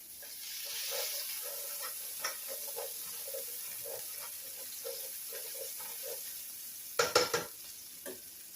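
Chopped onion sautés in a pan over medium heat, a soft sizzle under repeated light scraping and stirring taps, with a brief louder clatter near the end.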